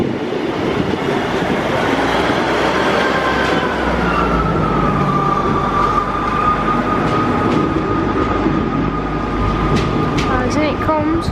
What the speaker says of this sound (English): In with the 158 now